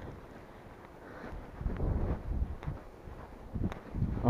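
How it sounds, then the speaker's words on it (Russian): Gusty wind buffeting the microphone outdoors ahead of a forecast thunderstorm, an irregular rushing roar that swells and eases in low bursts, close and fairly faint overall, with no talking. "А уже, кстати, ощущается ветерок, дует."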